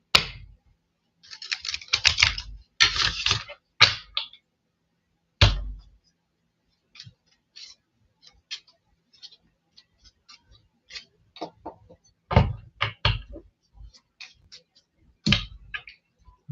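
Tarot cards are shuffled in quick papery riffles and taps, in short bursts separated by pauses, close and fairly crisp.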